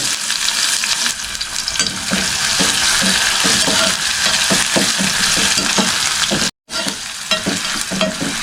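Chopped onions fry in hot oil for Mysore-style moong dal, giving a loud, steady sizzle broken by scraping stirs and a brief dropout near the end.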